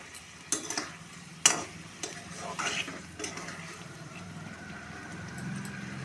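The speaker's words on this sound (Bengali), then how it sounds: "খুব ভালো করে নাড়াচাড়া দিয়ে দেবো। আর কি একটুখানি ভাজা ভাজা করে নেব।" Broccoli curry with milk water being stirred and fried in a pan, with a few sharp utensil scrapes and knocks over a low, steady background sizzle, close by.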